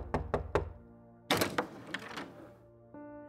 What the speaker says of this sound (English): eventually someone knocked on my door